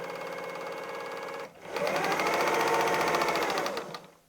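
Sewing machine stitching a patchwork strip along its full length: a steady rapid mechanical whir and clatter, briefly interrupted, then resuming loud and close for about two seconds before slowing to a stop.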